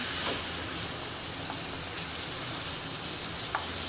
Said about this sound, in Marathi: बाकीचे मी फ्राय करून घेणार आहे पलटी मारून घेते